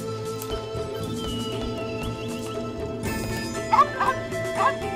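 A dog barks a few short, bright yips in The Legend of Sword and Fairy 5 Prequel video game, set over steady game music, with faint voice underneath.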